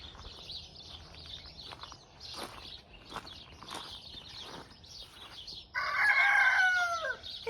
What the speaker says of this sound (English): I think you can probably hear them all waking up, the birds and the chickens.